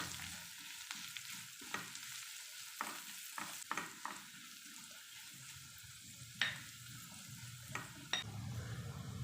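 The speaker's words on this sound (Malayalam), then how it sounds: "മഞ്ഞൾപ്പൊടി ചേർത്തിട്ട് ഒന്നുകൂടെ ഒന്ന് ഇളക്കി കൊടുക്കാം." A spoon scrapes and stirs potato and spinach with turmeric in a sizzling pan, giving a steady low fry under repeated sharp clinks and scrapes spread irregularly across the stretch.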